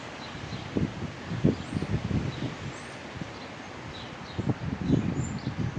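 Soft wind rushes steadily outdoors, with rustling gusts and scattered faint bird chirps in the background.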